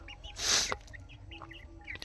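Young chickens, about three weeks old, give soft, faint clucks and chirps in a small coop, scattered over a brief burst of rustling noise near the start.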